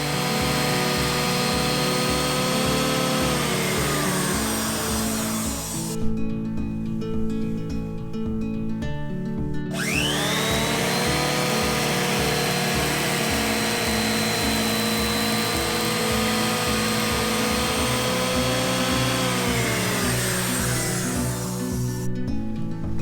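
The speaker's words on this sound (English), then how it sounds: "I'll just use a groove cutter to make a round groove on the top of the thread" Groove cutter routing a round groove into the top of a wooden stair tread during a Japanese carpenter's staircase renovation; a loud, continuous motor whine runs nearly the whole time, with brief shifts in pitch as the cut changes.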